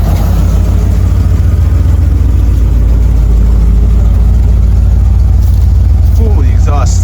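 An abandoned converted van, just bought at auction, idles with its engine running after its map sensor was plugged back in. A loud, steady, deep rumble continues unbroken and close, with a faint bit of talk near the end.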